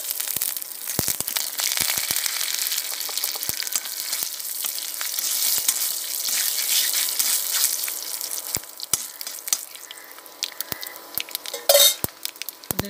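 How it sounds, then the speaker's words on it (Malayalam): Dried red chilies and curry leaves sizzle and crackle in hot oil for jackfruit curry, a steady close frying hiss with scattered pops and a few stirring clinks toward the end. "അതിലേക്ക് തുറന്ന മുളകും ചേർത്ത് കൊടുക്കുക. കറിവേപ്പിൻ്റെ ഇല"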